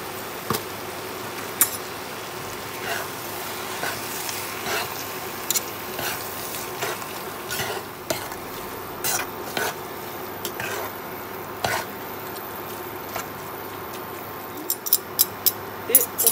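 Crème fraîche stirred into courgette tagliatelle in a cooking pan: a soft, steady background hiss broken by frequent sharp clicks and taps of a utensil against the pan, irregular and close.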